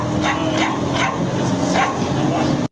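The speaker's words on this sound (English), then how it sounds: "I was just thrown off by that bark." A dog barks in short, repeated bursts of four or five yelps at a moderate distance, heard under and between people talking.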